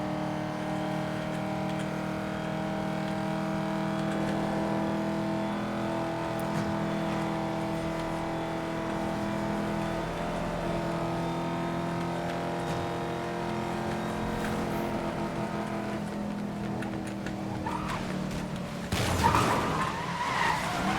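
A car races flat out in the video game Need for Speed: Most Wanted (2012), with a steady, droning engine roar and tire noise held throughout and a louder burst of skidding near the end.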